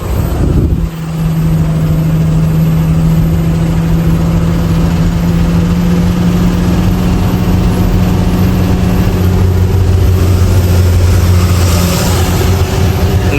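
A loaded truck's engine runs steadily after a shift into second gear on the road near the Rajasthan border, a loud continuous drone with a deep humming tone that holds throughout.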